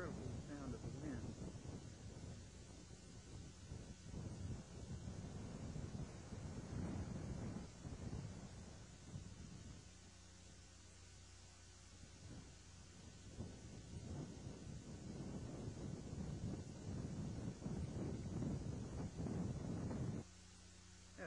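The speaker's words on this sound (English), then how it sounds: "Listen to the incredible sound of the wind." Strong wind buffets the microphone on a mountain summit among dwarfed, stunted trees in December, a steady loud roar with gusty surges throughout.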